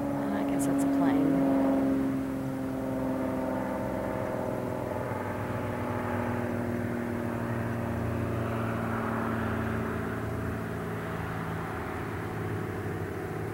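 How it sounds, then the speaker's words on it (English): An airplane flies overhead, giving a steady, continuous engine drone with low tonal hum that holds at a fairly even level throughout and swells slightly near the start. "I guess that's a plane."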